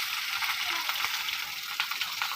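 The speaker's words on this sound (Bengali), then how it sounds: "কড়াইতে তেল গরম হয়ে গেছে, দিয়ে দেবো বাটাগুলো" Bata fish fry in hot oil in a wok, a steady close sizzle with small crackling pops throughout and no voices.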